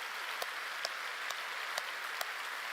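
A church congregation at a Friday night worship service applauds, a steady broad wash of many hands clapping with a few sharper individual claps standing out, no voices over it.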